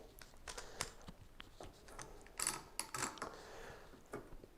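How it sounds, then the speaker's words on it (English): A clamp on a guitar neck being tightened gives faint, quiet clicks and ratcheting ticks, irregular and close, with small knocks and shuffles in between. "I'll get a clamp up here like so"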